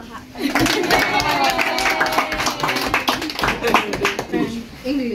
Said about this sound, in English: Everybody, let's clap